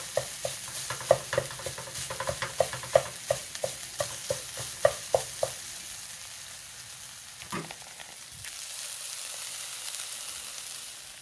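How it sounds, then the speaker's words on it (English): Ground turkey browning in a pan over a flame, with a rhythmic series of spatula scrapes and taps over a low sizzle that fades into quieter hiss. "I'm just finishing browning that."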